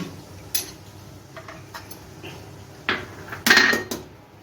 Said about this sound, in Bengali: আমি মাছটা একটা পাত্রে নিয়ে নিচ্ছি